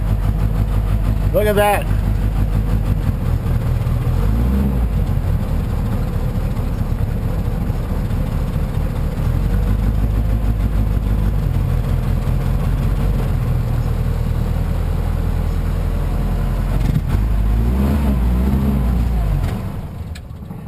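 A 1952 M38A1 jeep engine cold starting, then settling into a steady, close, rumbling idle that runs continuously before easing off near the end, with a brief spoken remark early on.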